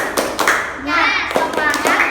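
A group claps in a steady rhythmic pattern, sharp hand claps close by, with children's voices chanting along between the beats in a primary school classroom.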